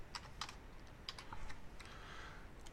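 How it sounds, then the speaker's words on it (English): Someone typing a formula into a spreadsheet on a computer keyboard: a few scattered, faint key clicks in small bursts against a quiet background. "We type equals sum,"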